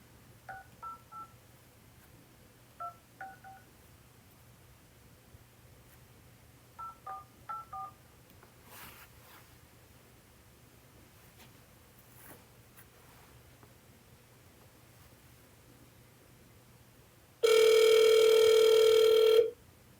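Telephone dialing: several short bursts of touch-tone keypad beeps in small clusters over a low steady hum, followed near the end by a loud, sustained two-second tone, with no talking.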